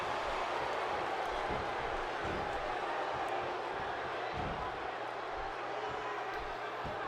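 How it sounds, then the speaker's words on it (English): Crowd noise in a wrestling video game match set in Texas, a dense steady roar of murmuring spectators with faint scattered shouts, holding level throughout as a continuous backdrop. "Texas crowd not liking that one"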